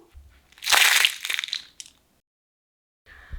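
A crispy puffed rice dosa snaps and crunches as it is broken by hand, giving a loud, close burst of crackling. A few smaller cracks follow, then a pause, then a faint final crunch.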